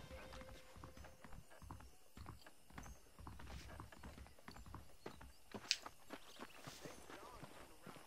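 Horse hooves clip-clopping in the Western video game Red Dead Redemption on Xbox 360, a steady walking rhythm of clear hoof strikes, with a brief whinny and faint mechanical creaks over quiet background.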